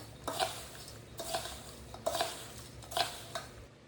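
A spoon stirs store-bought masala poha mixture in a bowl: four distinct scraping, rustling strokes at a roughly even pace, close and fairly quiet, with nothing else heard.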